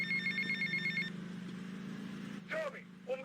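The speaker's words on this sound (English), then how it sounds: "Let's go ahead and first listen to this phone call from Umberto." An in-game telephone rings in GTA Vice City: a repeating electronic trill over steady low music for about a second, then stops before a voice begins speaking.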